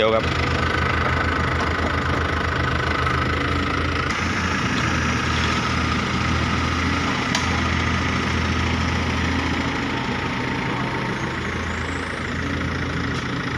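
Diesel engine of a 3000 turbo four-wheel-drive dump truck rumbling steadily at idle, close and loud throughout with a low knocking throb, no one talking.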